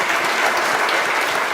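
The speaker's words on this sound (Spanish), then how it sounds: "Un aplauso para Jaime" Audience at a posthumous tribute event in Teotihuacan breaks into applause, a short, steady burst of many hands clapping together, fairly loud and dense with no voices over it.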